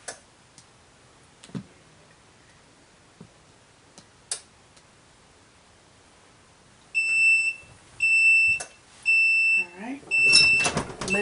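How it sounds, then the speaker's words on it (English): Heat press machine beeping as its 30-second timer ends during T-shirt making. A few faint ticks and clicks in near silence give way to a series of loud, shrill, repeated beeps in quick groups. "we're going to wait until it beeps after 30 seconds"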